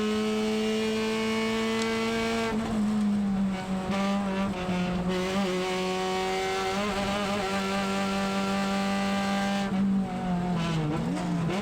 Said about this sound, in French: on va essayer de choper la Mustang au freinage